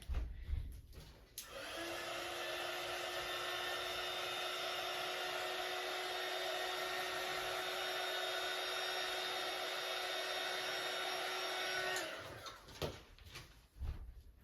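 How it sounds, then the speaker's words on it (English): A hair dryer blows steadily at close range on paper for about ten seconds, with a whining motor hum, then switches off. "You'll hear the blow dryer going."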